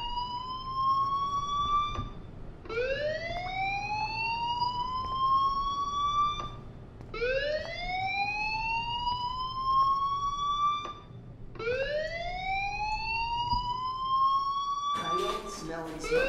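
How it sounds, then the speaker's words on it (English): School fire alarm in the Life is Strange video game, a loud rising siren wail that repeats in four sweeps about every four seconds, with faint talk underneath. "do you hear that fire alarm? That means you should be outside."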